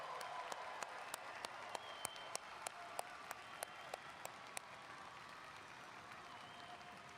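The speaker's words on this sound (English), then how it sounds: "Would you please join me in a round of applause for the graduates from Fargo South High School's class of 2023." Distant applause fills a high school graduation ceremony for the class of 2023, a soft, sustained crowd roar punctuated by a run of sharp, regularly spaced claps close by that stops partway through.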